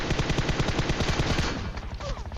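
Rapid bursts of automatic gunfire in PUBG Mobile crackle loud and close in a steady rhythm for over a second, then cut off, leaving quieter game ambience with a faint distant shot.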